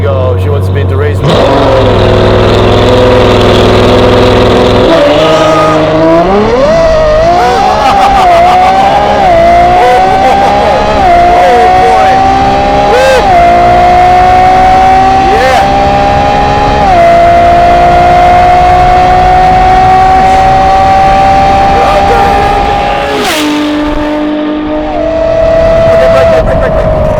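A 1000 hp McLaren 720S with a Novitec exhaust idles loudly, then revs and pulls away hard, its engine howl rising through repeated gear changes with sharp shift dips over nearly half a minute, heard up close.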